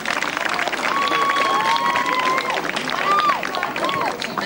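An outdoor audience gives dense, steady applause, with excited voices and children calling out over the clapping throughout.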